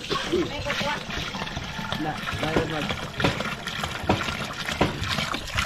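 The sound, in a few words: water being poured into a cooking pot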